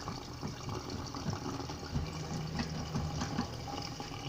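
Tap water running steadily in a kitchen sink while dishes and cups are washed, a continuous moderate splashing flow without speech.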